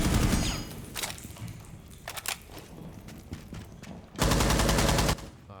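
Gunfire in a Rainbow Six Siege match, rapid bursts of automatic shots near and loud, broken by short gaps, ending in a sustained burst about a second long.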